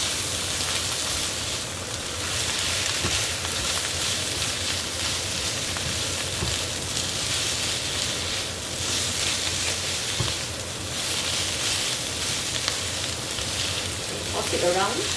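Vegetables and mock meat fry in a pan for vermicelli noodles, a steady loud sizzle with scraping stir strokes throughout, close and continuous with no talk.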